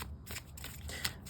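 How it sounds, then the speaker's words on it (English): Tarot cards being shuffled during a pentagram reading, a dense, continuous riffling and slapping of card stock filling the whole short moment, close and fairly quiet, with no talking. "So while I'm shuffling"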